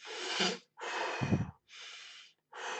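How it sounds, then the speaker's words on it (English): Slow, deliberate breaths during a deep breathing exercise, three or four long inhales and exhales separated by brief silences, close and fairly loud with some breathy snorting. "We now start breathing."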